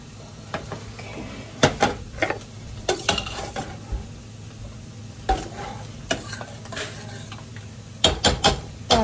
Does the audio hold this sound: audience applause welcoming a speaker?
no